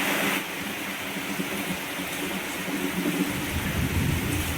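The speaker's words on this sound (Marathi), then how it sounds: "जोरात पाऊस इलो." Heavy rain falls during the first stormy downpour of the season in Konkan, with thunder, making a dense, loud, unbroken roar throughout, with no voices.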